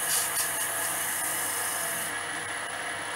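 Web wax rubbed over a plain piece of sycamore wood, a continuous soft hissing friction with a steady, even texture and no speech.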